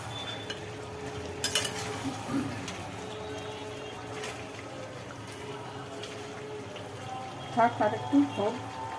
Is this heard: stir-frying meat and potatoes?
yes